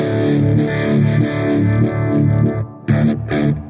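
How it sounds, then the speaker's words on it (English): An electric guitar played through a Univibe effect into a slightly dirty amp, with sustained warbling chords followed by two short stabbed chords, loud and alone. "I like a cleaner sound with the Univibe in general."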